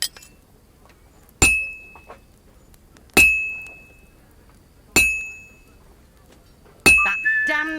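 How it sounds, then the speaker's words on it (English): A church bell in Kingdom Come: Deliverance 2 strikes four times at an even, unhurried pace, each clear metallic toll ringing out and fading before the next, and a voice begins speaking at the very end. "The first bell."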